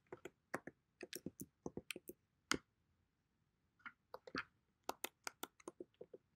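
A password is typed on a computer keyboard in quick bursts of sharp, close key clicks with a short pause between runs, faint and quiet with no talking.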